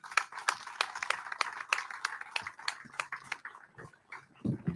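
An audience gives loud applause for professor Paolo Veronesi at a cultural award event on Procida, close, sharp individual claps in an irregular burst that thins out toward the end.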